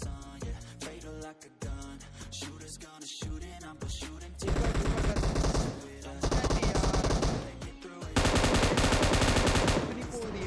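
Automatic rifle fire in the mobile battle royale game PUBG Mobile comes in rapid bursts that grow louder and denser toward the end, layered with game effects, heavy and close.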